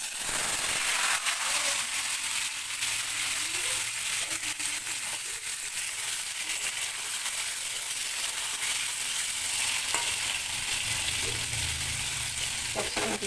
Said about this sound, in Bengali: এঁচোড়টাকে আগে একটু ভেজে নেব